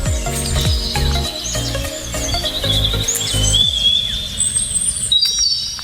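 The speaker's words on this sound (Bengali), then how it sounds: "টিয়া পাখির আওয়াজ শুনতে পাচ্ছি সামনের দিকে।" Parakeets call from tall trees in a forest: high, thin chirps and whistles drift through the trees, moderately distant, over a steady background of insect and woodland noise.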